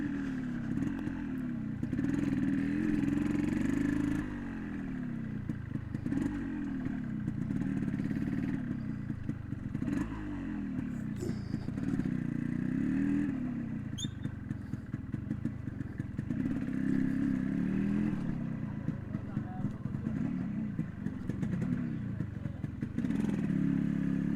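An old 1980s-90s motorcycle with four gears labours up a high bridge, its engine throbbing in rhythmic surges and revs, close and continuous throughout.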